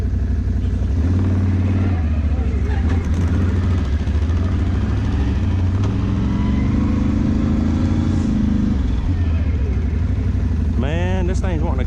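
A 2018 Can-Am XMR ATV engine roars and revs hard while churning through deep mud and water, a loud, close, sustained drone with swells in pitch, and a voice cuts in near the end.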